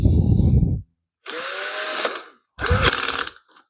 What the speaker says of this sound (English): we need to drill this hole bigger now for the